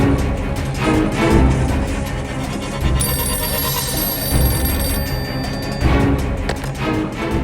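A telephone rings after a number is dialed, a loud, insistent electronic trill repeating in bursts over a busy, noisy background.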